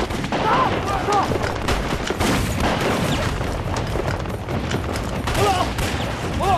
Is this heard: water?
no